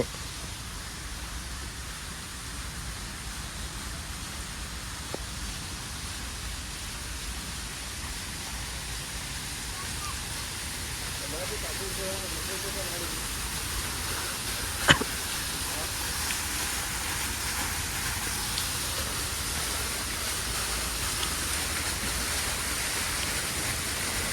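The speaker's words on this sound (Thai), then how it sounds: "มันมีน้ำตกนะครับผม" Waterfall in a park garden: a continuous, even rush of falling water fills the scene as a steady wash of noise, with a faint brief knock partway through.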